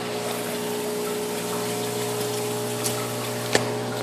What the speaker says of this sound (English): there is a Danner 2400 gallon pump that runs the skimmer